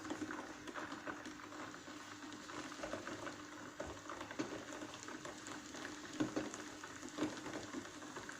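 Rice cooks in a pot with a faint, soft bubbling and gentle simmer, low and continuous with small irregular pops, no voices.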